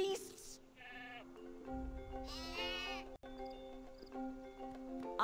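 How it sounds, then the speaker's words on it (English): Sheep bleat in the Skylanders: Spyro's Adventure video game, several wavering cries over a steady game music bed. "Honestly, Hugo, they're just sheep."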